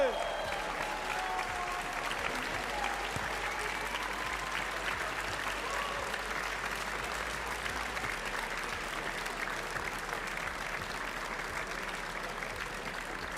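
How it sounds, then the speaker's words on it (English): Steady, dense applause from an event audience at a demoscene party awards ceremony, honoring nominees, holding at a constant loud level throughout with a few faint cheers mixed in. "this is your applause. Congratulations."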